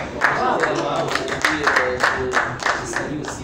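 Audience applause at a French-language debate broadcast, a steady patter of hand clapping running throughout with scattered sharper claps, mixed with talk and crowd noise.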